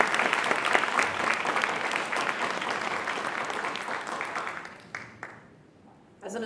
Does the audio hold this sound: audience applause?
yes